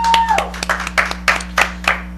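At a local talk-show taping, a small audience gives a brief round of clapping, several distinct claps landing in a quick, even rhythm over a low steady hum.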